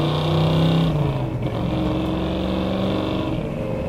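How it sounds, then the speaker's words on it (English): A 1967 Ford F100 Ranger pickup rumbles down the road with a loud, throaty exhaust heard close up, its engine note dropping after the first second and then holding steady. "it's got some awesome exhaust, so you don't really need a radio"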